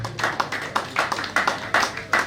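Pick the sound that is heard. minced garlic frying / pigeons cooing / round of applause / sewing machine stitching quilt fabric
round of applause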